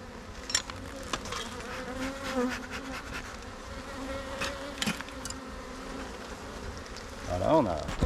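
Honey bees from an open hive colony drone in a steady, close buzz that runs throughout, with brief louder passes of individual bees near the end.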